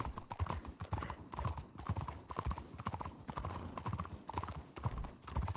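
Two horses' hooves clip-clop steadily on tiles, a dense irregular rhythm of sharp close strikes running throughout, with a brief whinny-like sound mixed in.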